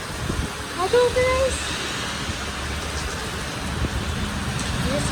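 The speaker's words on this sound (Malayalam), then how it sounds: "നമുക്ക് നല്ല മഴയുണ്ട് കേട്ടോ, നല്ല മഴയുണ്ട്." Continuous hiss of steady rain falling outdoors, with faint traffic and a brief tonal sound early on, no clear talking.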